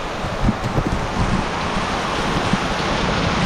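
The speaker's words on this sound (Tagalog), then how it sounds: "Taas ng ulan dito" Heavy rain pours steadily over a farm, a dense, continuous roaring hiss with faint low rumbles, close to the microphone and uninterrupted.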